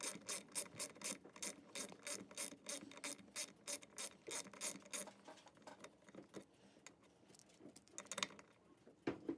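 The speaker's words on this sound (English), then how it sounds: "now you're going to want to torque these guys down to 7 foot-pounds" A ratchet tightening bolts on the engine case of a 2003 Honda CR125 during a bottom-end rebuild, rapid close clicking in several bursts with short pauses between strokes.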